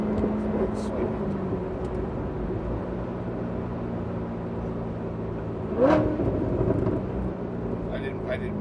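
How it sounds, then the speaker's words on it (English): A car engine, an M4, rises in a quick rev blip around a downshift while driving out past other cars, a short swell over steady road and engine noise, with people talking throughout. "That just happened to be when I downshifted."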